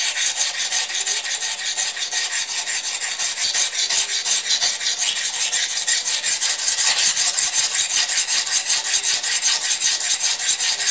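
Steady, loud back-and-forth scraping of a rubber-tapping knife blade being sharpened on a whetstone, rhythmic strokes continuing throughout with no talk.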